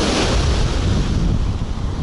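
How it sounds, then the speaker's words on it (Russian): Baltic Sea waves wash onto the beach at Zelenogradsk, a steady broadband roar of surf with wind buffeting the microphone, loud and continuous throughout with no voices. "Но я манал. Волны эти."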